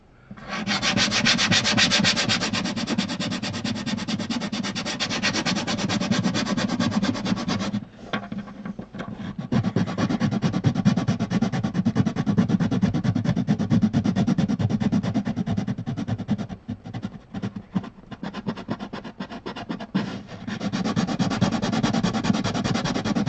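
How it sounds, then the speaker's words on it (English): Steady rhythmic rasping of sandpaper rubbed by hand back and forth across the wood grain, close and continuous, with a brief pause partway through. "I'm sanding cross grain on this, and I like to do that because it scuffs the surface"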